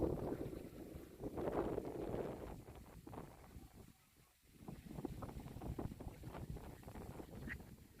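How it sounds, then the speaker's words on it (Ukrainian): Gusty wind buffets the microphone on a fishing trip, with low rumbling rushes rising and easing over several seconds and faint water or boat sounds underneath. "Вітер."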